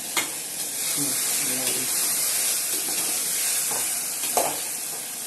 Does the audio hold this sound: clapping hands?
no